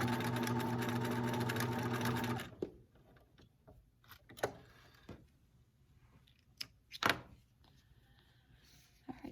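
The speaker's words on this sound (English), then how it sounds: "I'm just going to make sure the elastic is right level with the end of the casing. And I'm going to sew that in place now" A sewing machine stitches elastic into the casing of a fabric eye mask, a loud steady whirring burst for a couple of seconds, then stops, leaving faint clicks and fabric handling nearby.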